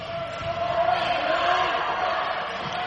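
Home crowd murmuring and cheering steadily through a men's college basketball game in Hamline's gym against Carleton, a dense, sustained roar with no standout voices.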